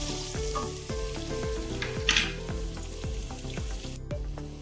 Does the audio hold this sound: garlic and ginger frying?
yes